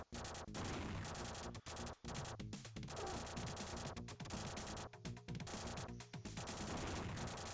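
Terminator 2: The Arcade Game on the Sega Genesis, with steady, dense gunfire running almost the whole time and only a few brief gaps. The shooting is loud and close, and no one talks.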